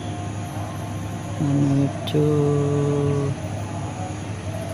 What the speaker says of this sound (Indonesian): itu siap-siap kereta apinya berangkat